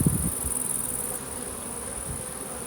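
Honeybees buzz steadily at an open hive frame, a close, continuous drone. A few faint handling bumps come through near the start.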